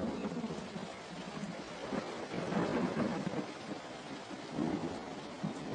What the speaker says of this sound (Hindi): घनघोर बारिशों के इस मौसम में आसमान से हफ्तों तक लगातार बरसता है पानी।